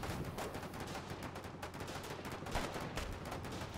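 Heavy, continuous gunfire crackles from many weapons at once in the war game Foxhole, a dense volley of overlapping shots and thuds that stays steady and loud with no voices.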